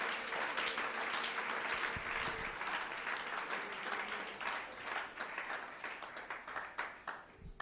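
A church congregation at a Sunday service breaks into sustained applause, a dense wash of many hands clapping steadily throughout, slightly thinning toward the end.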